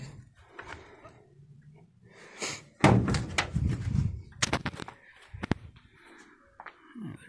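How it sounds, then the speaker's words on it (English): The door of a 1979 Chevy Nomad G10/G20 van swings shut with a loud, close slam, followed by several sharper clunks and knocks as the doors are worked. "Door shut. Like they should."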